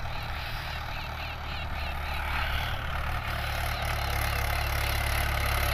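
A Mahindra 585 DI 50 HP tractor engine pulls an 11-tine cultivator with a steady, droning low rumble that holds at an even level throughout and is heard on its own.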